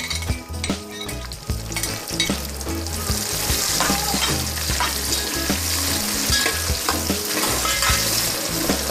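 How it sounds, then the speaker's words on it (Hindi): Onions crackle and hiss in hot oil with whole garam masala spices, a loud, close frying sound that thickens and steadies after a few seconds, with occasional clinks of a utensil against the pan. "सबसे पहले हमने ऑयल के अंदर साबुत गरम मसाले डाल देने हैं। ये सारे फ्राई मसाला होना शुरू हो गया है, तो हम इसके अंदर प्याज डाल देंगे।"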